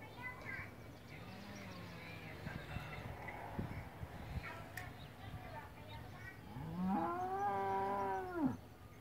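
A big cow moos in a yard on a morning, a long bellowing call near the end, with lighter lowing and rustling earlier, fairly close, with no talk over it.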